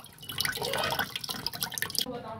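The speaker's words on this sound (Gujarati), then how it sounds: "આખું પાણી જે તૈયાર થઈ ગયું ને એમાં જો હવે ગાળવામાં આવે છે આખું" Prepared pani puri water is strained, giving a continuous close trickle and dripping of liquid with uneven splashy bursts, and faint voices murmur in the background.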